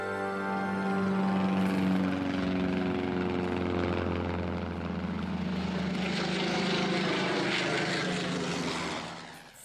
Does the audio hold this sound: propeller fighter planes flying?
yes